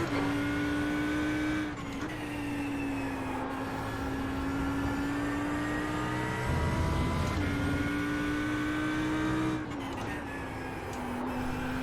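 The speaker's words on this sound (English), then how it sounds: "Alright, Al, there's a faster car approaching." Race car engine in an IMSA GT3 sim race at Monza, a steady high-pitched drone with gear shifts and a faster car closing in as another engine swells briefly mid-way, loud and continuous with no talk.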